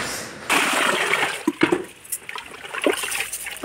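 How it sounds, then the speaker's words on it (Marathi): Finger millet (nagli) grains being rinsed in water by hand, with splashing, trickling and sloshing bursts and small clinks that come and go close by, with no talk. "ही 3 पाण्याने प्रथम स्वच्छ धुवून घ्यायची आहे"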